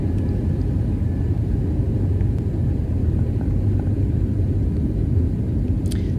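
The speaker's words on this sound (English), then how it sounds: "Is that a helicopter going around? No, it's another airplane." An airplane passes overhead as a steady low rumble. It is constant and moderately loud and stays in the background, with no talk.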